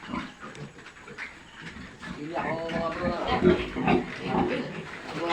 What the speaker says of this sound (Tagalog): Iba na may alaga yung baboy na barako.